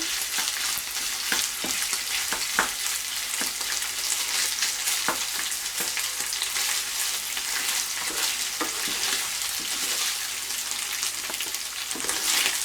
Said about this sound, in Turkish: Bir dakikadır kavruldu.